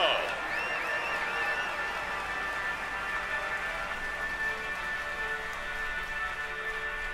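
A crowd cheers and applauds the stage winner at the Tour de France 2020 finish in Villard-de-Lans, a faint, distant roar spread evenly under a steady tone and a few whistles.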